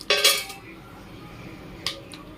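Whole spices such as cinnamon, cloves, cardamom, black stone flower and star anise dropped into a pan for veg biryani: a brief clatter and sizzle up close, then a short clink later.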